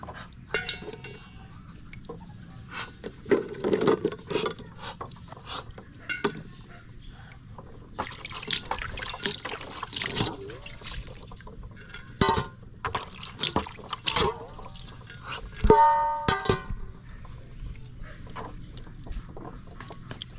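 Eggs being washed in a basin of water to make salted eggs, with splashing, sloshing and light clinks of shells against the container in irregular bursts, close up and moderately loud, without speech.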